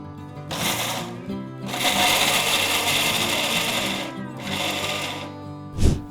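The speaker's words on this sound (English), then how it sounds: "So we're going to put them in the grinder like this." An electric grinder whirs in several loud bursts as it grinds toasted dates and nuts, with short pauses between runs and a knock at the end.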